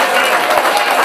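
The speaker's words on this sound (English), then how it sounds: "a massive round of applause for Simon" Audience at a chilli eating contest in Burnham-on-Sea gives a dense, continuous round of clapping, close and lively throughout the short burst.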